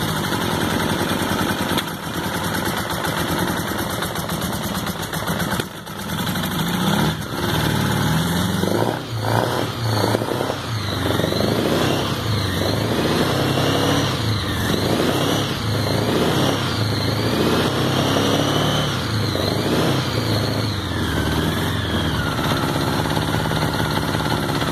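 A Honda Goldwing GL1100 motorcycle engine running steadily, a loud continuous idle with a mechanical hum and rising and falling revs, recorded close up for a sustained stretch without speech.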